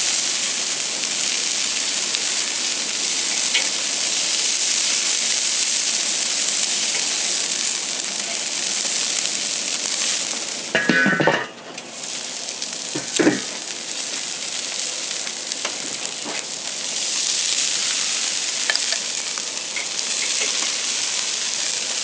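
Steaks sizzle steadily in a hot pan, a constant hiss with a couple of brief clatters as they are rolled over with tongs, no talking.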